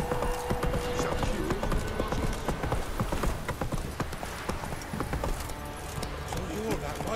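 Horse hooves clip-clop at a steady galloping rhythm in The Witcher 3, a close, continuous pounding with occasional snorts, while a voice speaks over it.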